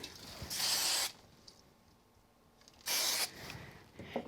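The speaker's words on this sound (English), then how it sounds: "I'm going to give this one a bit of spray on the back." Two short hissing bursts from a spray can onto the back of a card, about two seconds apart, close and fairly loud, with quiet pauses between.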